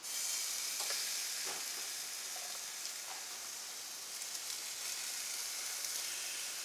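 Pork steaks sizzle on a hot grill with a steady, close, even crackling hiss that runs throughout with a few faint clicks; no one speaks.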